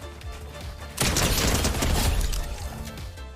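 Fortnite drum shotgun firing in a video game: a loud, sustained burst of rapid blasts starts about a second in and rolls on for roughly two seconds before tapering, with lighter game noise around it.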